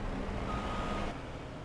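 Truck reversing beeps sound in Farming Simulator 22 on a sheep farm, faint repeated tones over a dense, steady engine and ambient rumble.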